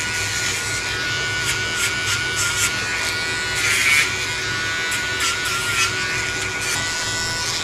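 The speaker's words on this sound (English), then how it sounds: "I'm gonna go ahead and Dremel her nails" A Dremel grinds a Shih Tzu's nails in a close, continuous high buzzing whir that wavers slightly as it touches each nail, with no talk.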